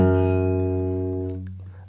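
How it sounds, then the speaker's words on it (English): A single loud low bass note on guitar, struck with a thumb rest stroke, rings out with rich sustained harmonics and slowly decays over about two seconds, alone with no talk. "I play loud bass with my thumb and rest stroke"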